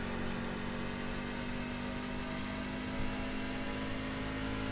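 A video-game race truck at Darlington runs at a steady, sustained engine whine, loud and unbroken throughout, with no voices over it.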